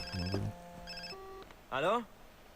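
Mobile phone ringtone in Far Cry 3, a few short electronic ringing bursts followed by a rising warbling tone, fairly clear and close.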